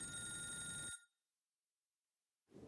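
An office telephone rings loudly for about a second, then cuts off abruptly into silence before faint room sound returns.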